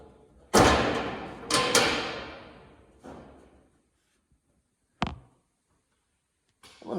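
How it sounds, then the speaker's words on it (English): Metal doors are fitted onto a US General hanging tool cabinet from Harbor Freight, giving several loud, sharp thuds and clanks with ringing decays, spaced out by quiet pauses. "I'm gonna get all these doors on here first"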